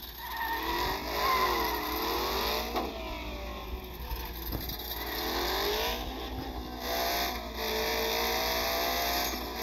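An El Camino brakes hard with loud, drawn-out tire squeal over its running engine, the screech swelling and fading several times alongside revving across the stretch, with no talking.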